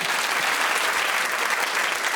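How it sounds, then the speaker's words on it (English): A comedy-show crowd gives a round of applause, loud and dense, a continuous wash of many hands clapping from start to finish. "a round of applause, please, for Robbie."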